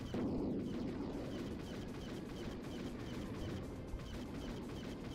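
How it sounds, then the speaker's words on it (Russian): Plasma gun alternate fire in the video game Serious Sam, a dense, continuous roar of loud blasts and crashing bursts that stays steady for several seconds with no talk. "Пара выстрелов альтернативным огнем, чуть-чуть добить и все."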